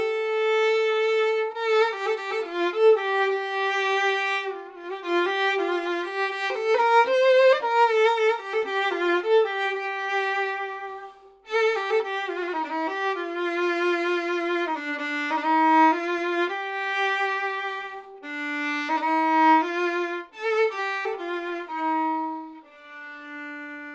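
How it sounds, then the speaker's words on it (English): Instrumental introduction of an Iraqi song, a single melodic instrument playing flowing ornamented phrases with a short pause midway, clear and close with no voices. "So let's hear the first instrumental introduction with those feelings in mind."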